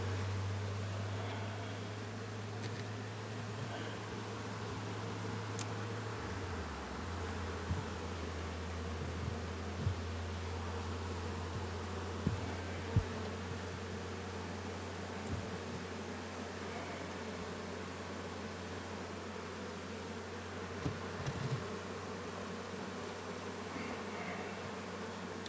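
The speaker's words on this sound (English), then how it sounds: "Man, a lot of these bees over here are moving to the wrong spot." Bees hum around a long hive in a soft, steady drone, with a low mechanical hum underneath and a few faint knocks.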